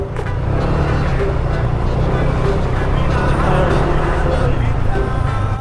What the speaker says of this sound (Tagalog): Masyadong ma-traffic dito sa may tapat ng Red Doors.